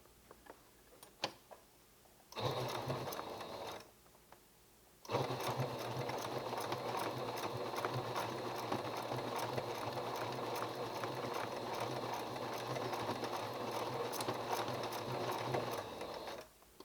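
A sewing machine stitches free-motion embroidery in a quiet room: a short burst of rapid mechanical stitching, a pause, then a long steady run of close, even whirring and ticking.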